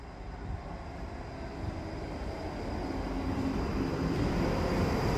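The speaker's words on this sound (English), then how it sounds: "Okay, we've got a train incoming." A Class 334 electric train pulls into Edinburgh Park station, a steady broadband rumble that swells slowly as it draws closer, with no voices over it.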